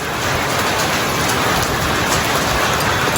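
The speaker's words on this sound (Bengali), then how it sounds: "বৃষ্টি শুরু হয়ে গেছে, ভিজবো বৃষ্টিতে।" Rain falls on a rooftop in a steady, loud, close wash of drops that holds even throughout, with no one talking.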